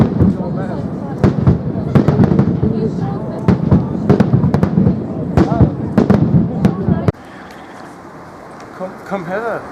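Fireworks going off in Edinburgh, a rapid series of loud sharp bangs and crackles close by for several seconds before stopping, with people talking and shouting amid the blasts.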